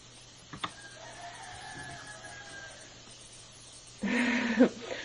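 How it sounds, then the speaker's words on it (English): A neighbour's rooster crows once in the morning, a loud burst near the end after a quieter stretch with a faint earlier call, heard outdoors with no talk. "My roosters, they're not really mine, they're neighbors' roosters, because it's morning time."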